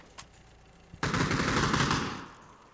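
A sudden burst of rapid automatic gunfire in the game PUBG erupts after a faint click, sustained and loud for over a second before tapering off, with game-like sound effects.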